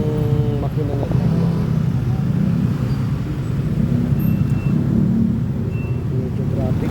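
Road traffic rumbles steadily nearby, a continuous low drone of passing vehicles and engines that stays loud throughout.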